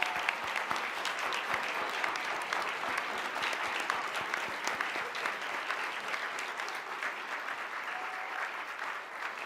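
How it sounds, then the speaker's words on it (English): Audience applause fills the room in a steady, dense wash of clapping from a large crowd, even in level throughout and heard from a distance. "And let's give them a big round of applause."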